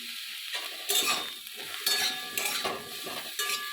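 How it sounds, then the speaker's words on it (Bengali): Eggplant pieces fry in a kadai with salt and turmeric, giving a steady close sizzle broken by several louder bursts of stirring and spatula scrapes. "ভালো করে বেগুনটা ভেজে নেব"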